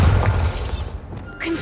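The Bombarda explosion spell in the video game Hogwarts Legacy: a dense, loud booming blast with a deep rumble, settling briefly before another burst of noise.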